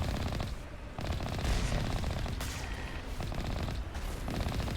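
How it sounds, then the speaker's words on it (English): Rapid enemy gunfire rattles nonstop in a video game, dense bursts of automatic shots layered over one another, loud and close, with no talking. "Oh my god, they're shooting me"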